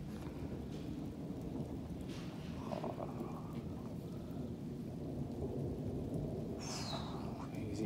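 A violent summer thunderstorm over Clermont-Ferrand in Auvergne brings steady, dense rain and a continuous low thunder rumble, with a couple of brief sharper cracks late on.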